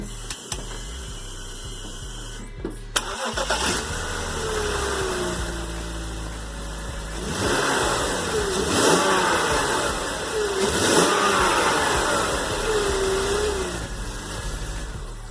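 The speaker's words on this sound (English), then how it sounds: "let's see if the exhaust is good and quiet as we desire" A BMW E46 engine starts after an exhaust gasket replacement and settles into a steady idle, then revs up a few times, the exhaust sounding fairly quiet and smooth.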